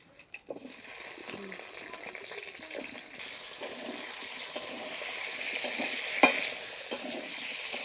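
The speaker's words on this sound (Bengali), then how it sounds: "এবার যে আলু কেটে রেখেছি আলুগুলো ভেজে নেব।" Cut potatoes fry in a pan in a home kitchen during fish curry cooking, giving a steady, moderate sizzle with occasional clinks and stirring scrapes throughout, no talking.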